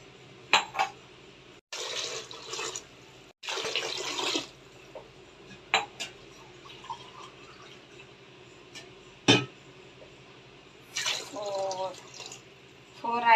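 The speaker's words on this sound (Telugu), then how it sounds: "టూ అండ్ హాఫ్ రైస్కి 4 గ్లాస్ వాటర్ పోసుకోవాలి" Water is poured from a glass into a cooking pot of rice for vegetable biryani, heard as a few short splashing bursts spread across a quiet kitchen stretch.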